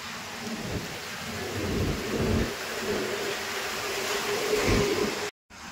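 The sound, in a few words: rain and thunder during a cyclone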